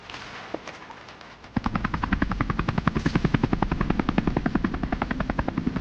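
A helicopter's rotor starts up close by, a steady rapid thudding chop with a low engine rumble underneath, loud and driving after the first second and a half.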